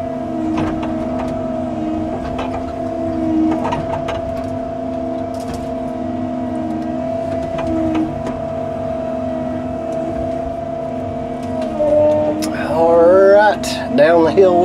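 Excavator engine droning steadily while driving down a hill, a constant low tonal hum close by that rises into a louder, strained roar near the end, with someone talking over parts of it.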